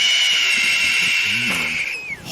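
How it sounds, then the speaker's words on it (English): Piercing bird calls ring out in a natural setting, a sustained high shrill tone holding steady before bending and sliding downward near the end, with a few low murmurs beneath. "Off in the distance, we hear piercing bird calls."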